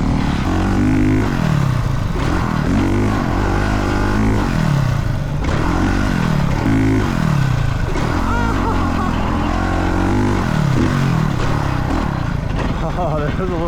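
A motocross motorcycle engine on a beginner's first ride, running loud and close with a brief throttle tap that makes the revs rise and fall in repeated surges, with people talking over it.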